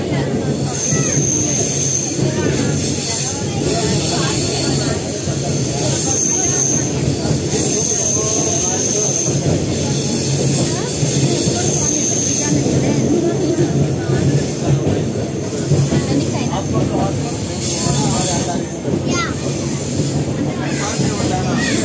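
Train running steadily with continuous rumble and rattle, heard from inside a carriage, with voices talking throughout.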